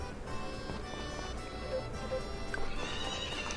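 Horse neighing with clip-clop hooves in the farming video game Story of Seasons: Friends of Mineral Town, a short whinny over light game sounds at moderate level.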